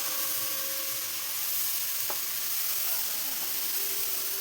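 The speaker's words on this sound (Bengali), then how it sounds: "এবার ভালোভাবে কষিয়ে নেব চিচিঙ্গাটাকে" Snake gourd seasoned with salt and turmeric sautés in a hot pan, giving an even, continuous close sizzle with faint stirring scrapes and no voices.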